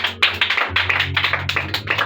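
A church congregation applauds loudly at a Sunday Ascension service, a dense crowd of hand claps with rhythmic surges, steady and close, with no talk over it.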